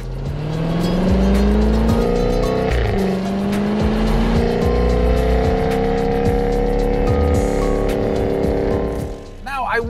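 A 2021 Jaguar F-Type R engine and exhaust rev hard through paddle-shifted gears, a loud rising growl with quick pitch drops at each shift and crackles as it backs off, while someone talks over it.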